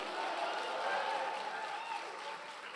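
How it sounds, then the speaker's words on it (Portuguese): Church congregation applauding and cheering with joy, a steady dense wash of clapping and voices sustained throughout, moderately distant and fairly even in level. "dê um aplauso ao Senhor e dê um grito de júbilo"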